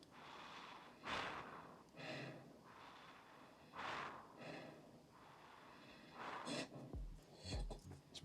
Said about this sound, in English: ASMR breathing.